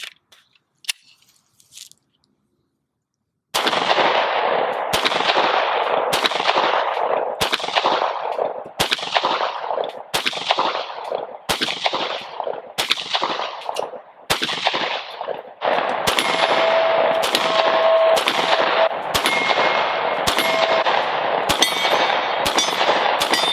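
Glock 43x pistol firing round after round in a long steady string, each sharp crack ringing out close and loud with a short pause between shots, after a brief quiet opening with a faint click.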